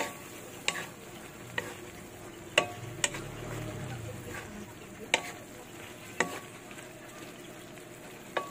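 A boiling dish is stirred in a pot, the spoon knocking against the side every second or so over a steady low bubble and faint sizzle, heard close with no talk.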